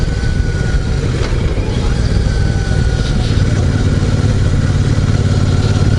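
A Royal Enfield Super Meteor 650 motorcycle with a rough, balky gearbox drones loudly and steadily while riding, with slight pitch shifts as gears change under constant wind rumble.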